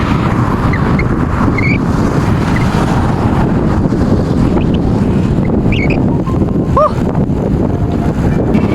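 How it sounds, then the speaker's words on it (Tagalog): Strong wind buffets the microphone in a constant, heavy rumbling roar throughout, with faint higher sounds flickering briefly in the background. "Lakas ng hangin."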